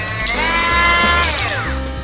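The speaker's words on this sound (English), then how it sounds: "This is a Dremel." A handheld Dremel rotary tool runs steadily and loud close by, with a high whining motor tone whose pitch sweeps up and down throughout. The tool is used for building tarantula enclosures.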